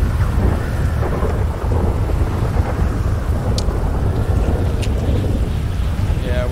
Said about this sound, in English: Oh, now it starts to rain.